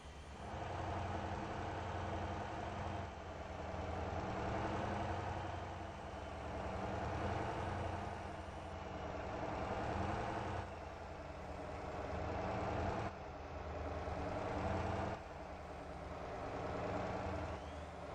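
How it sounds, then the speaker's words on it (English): Noisy truck engine from a computer-controlled vehicle idling in the driving game Motor Town, a steady, droning rumble that holds for the whole stretch with slight swells and no talking over it. "Got that noisy NPC engine behind us."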